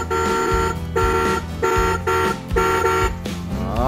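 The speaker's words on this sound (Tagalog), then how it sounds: "Busina." A toy electric motorcycle's horn honks in a repeated beeping melody, bright and electronic, looping several times close up with no talking.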